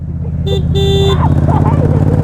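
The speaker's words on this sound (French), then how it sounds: "Est-ce que tu as déjà entendu un klaxon de MT-07?" A Yamaha MT-07 motorcycle horn gives two short, loud honks, the second held longer, over the steady rumble of the idling engine, with voices murmuring afterward.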